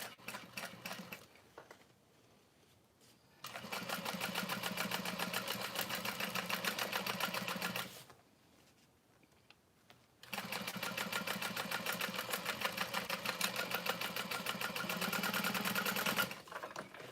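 A sewing machine runs in two long bursts of steady, rapid stitching at a 4.5 stitch length, sewing the middle panel of a Divina tote bag, with quiet pauses between runs.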